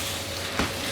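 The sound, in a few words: meat frying with soft onions in a pan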